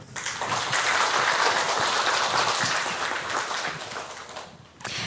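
An audience at a startup forum lecture in Gwangju bursts into sustained applause, a dense, loud wash of clapping that swells quickly, holds steady, then tapers off near the end.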